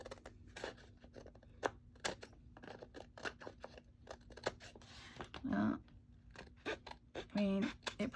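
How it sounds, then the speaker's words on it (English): Scissors snip through paper in a series of short, crisp cuts at an irregular pace, close by, with a brief voice sound near the end. "I just use my scissors and go right at the edge and just do a little slither."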